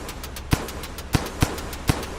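A scare item in the video game Rain World goes off as four short, sharp pops spaced unevenly over about two seconds, each a quick burst over a steady low hum, with no talking.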